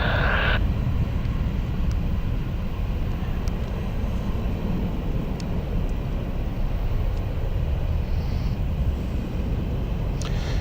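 An airliner takes off at Gatwick Airport with a steady, broad jet roar that holds evenly for about ten seconds, heard from a distance without voices.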